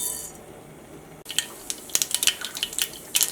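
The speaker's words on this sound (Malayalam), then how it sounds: "അപ്പോൾ കടുക് പൊട്ടിയിട്ടുണ്ട്." Mustard seeds spluttering in hot oil in a pan: after a quiet hiss, a burst of sharp, close popping crackles breaks out in quick irregular clusters, alone without speech.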